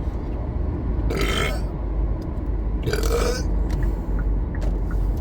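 A person hiccups twice in short, sharp bursts about two seconds apart, heard close over a loud, steady low background rumble.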